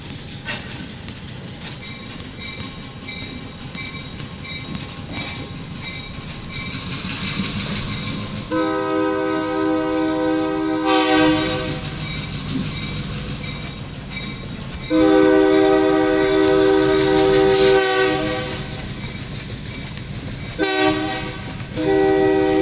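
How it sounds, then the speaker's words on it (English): A train rumbles past on the West Michigan Railroad with repeated loud, sustained horn blasts over the steady roar and clatter of rail cars. "let us film the train going by during the middle of their basketball game"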